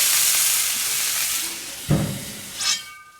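Burger patties sizzle loudly in a hot pan with a steady hiss, broken by a thump as one is flipped and a brief burst of fresh sizzling near the end.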